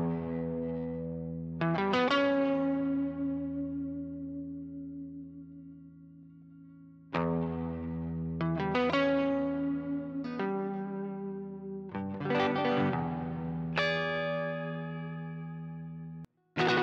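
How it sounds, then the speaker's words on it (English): Distorted electric guitar through a DIY Good Boy Fuzz pedal, with several strummed chords left to ring and sustain, then fresh attacks near the middle and end. The tone is loud and saturated, and no one speaks. "that's the kind of good boy sounds that you can make with the good boy fuzz"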